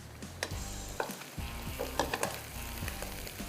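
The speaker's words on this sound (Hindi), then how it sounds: "जब तक ये फ्राई हो रहा है" Ginger and garlic fry in a pan with a steady low sizzle, broken by a few sharp clinks and scrapes of stirring. Nobody speaks.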